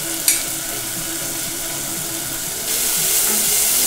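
Grated ginger, chopped garlic and a small onion frying in butter in a pan, a steady dense sizzle that swells louder partway through, with one sharp clink near the start, close and with no voices.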